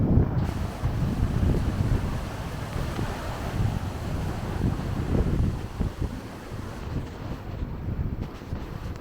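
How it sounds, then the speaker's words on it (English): Strong wind on a beach buffeting the microphone with a continuous low roar and rumble, waves faintly mixed in, no talking. "It's probably too windy to talk"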